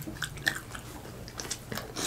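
Close, crisp crunching and chewing of a spicy noodle taco, with irregular bites and soft mouth sounds spread across the short clip and no talking.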